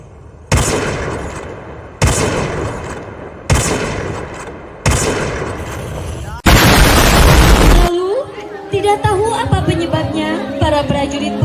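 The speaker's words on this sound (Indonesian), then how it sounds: "Di tengah jalan, terdengar suara ledakan." A series of sharp, booming explosion blasts repeats at regular intervals during a school stage performance, followed by a long burst of harsh noise, then music rises beneath.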